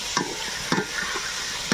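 Mutton with dried chillies fries in a pan for a village-style curry, a steady loud sizzle broken by periodic scraping stirs of a spatula, close and with no voices.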